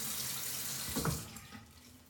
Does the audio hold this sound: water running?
yes